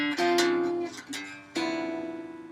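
A guitar plays a blues walking bass line using neighbor-tone approach notes: a few close, plucked single notes ring and decay in a short stepwise run, with no talking.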